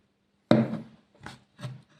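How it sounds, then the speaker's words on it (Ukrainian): A hole is made in a plastic bottle, heard as a sharp crackling crunch followed by two shorter scraping crinkles at even intervals, close by and with no other sounds. "Робимо дірочку в пляшці."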